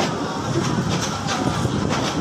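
The Narayanganj DEMU train rolls slowly, a steady moderate rumble with soft, regular wheel clacks and some wind noise across the whole stretch, no voices.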